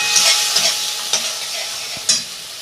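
Onion sautéing in a pan for a home-style chana masala, a steady close sizzle broken by a few sharp scrapes of a spatula stirring over about three seconds, with no voices.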